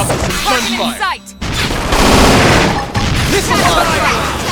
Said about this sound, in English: Wake him up with some gunfire!